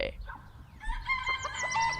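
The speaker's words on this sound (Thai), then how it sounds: "เออเสียงไก่ขันหนึ่ง" A rooster crows once at moderate distance, its drawn-out call rising and holding, with faint clucking and background noise around it.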